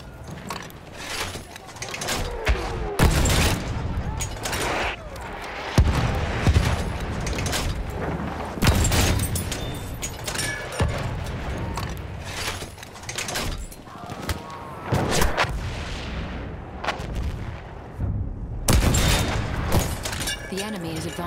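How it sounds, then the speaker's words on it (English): Battlefield 1 match at St. Quentin Scar in Assault mode, a loud, dense wartime din of artillery barrage and gunfire. Blasts and crashes come in repeated bursts, with game voices calling out at times over the steady combat roar. "The enemies are being halted by our artillery barrage."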